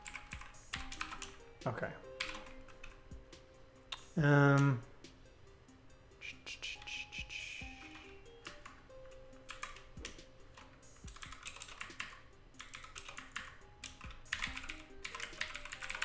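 Rapid clicking keystrokes on a new computer keyboard run steadily throughout, fairly close and quiet, with a short spoken word partway through.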